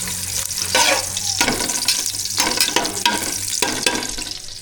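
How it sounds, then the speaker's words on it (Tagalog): Chicken fat rendering and frying in its own oil for chicken adobo, cooked outdoors by a river, a steady close sizzle with bursts of louder crackle and stirring every second or so, no talk. "Pagmantikain natin yun, no? Pagmantikain natin yung taba."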